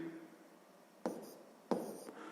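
Pen scratching across paper during a sixth-grade math exercise: two short, faint writing strokes close by against quiet room tone, with no talking.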